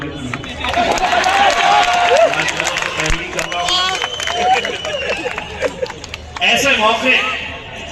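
A crowd at a gathering in Hyderabad claps in a sustained, noisy wash of applause, mixed with babble and a loud voice talking over it.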